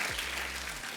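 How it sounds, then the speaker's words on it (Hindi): Studio audience on a television comedy show clapping in a brief burst, a loud, dense patter of hands lasting about a second alongside a low steady hum. "तो जोरदार तालियां सलमान भाई के लिए और कैटरीना मैम के लिए"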